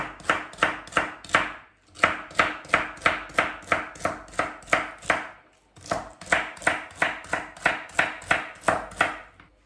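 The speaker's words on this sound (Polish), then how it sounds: "Również kroję kosteczkę." A knife chops a celery stalk into small cubes on a board in quick, even bursts of crisp taps, with two short pauses between runs, close and clear.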